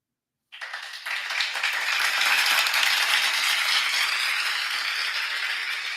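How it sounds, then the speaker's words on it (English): After a short silence, a recorded applause sound effect bursts in and runs steadily as dense, crackling clapping that holds at a constant level to the end. "Here goes your applause."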